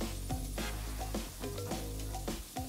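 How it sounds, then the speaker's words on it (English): Zucchini blossoms from the garden sizzle and crackle in a hot pan while making quiche, with bursts of frying hiss and stirring clatter close by. "I also have some zucchini blossoms from the garden. I'm just going to throw these in."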